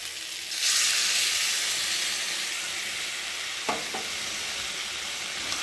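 Fish curry with mustard and fried aubergine sizzles in a pan, a loud, steady hiss that swells early on, with a couple of sharp scraping stirs partway through and no voices.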